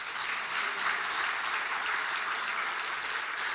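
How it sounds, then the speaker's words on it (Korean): A church congregation applauds warmly at an evening worship service, steady dense clapping filling the room throughout without a break. "뜨겁게 한번 박수 한번 하십시오"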